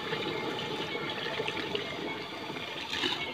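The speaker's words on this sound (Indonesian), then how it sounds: "Oke, kita curahkan ini air 15 liter." Fifteen liters of water pour steadily into a fertilizer mix for young chili plants, a continuous splashing rush at close range with no talk.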